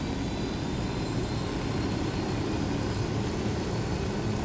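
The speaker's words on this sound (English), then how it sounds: "Let's get the helicopter." A helicopter in the Ghost Recon Wildlands video game approaches with a loud, steady engine and rotor roar that fills the whole stretch without letup, and no one talks over it.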